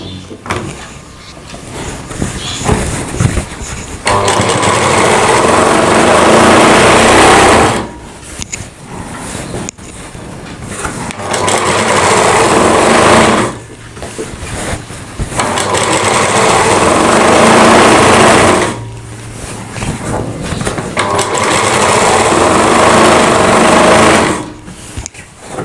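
A sewing machine stitching a Rajputi suit, running loud and close in three long bursts of steady whirring separated by short pauses.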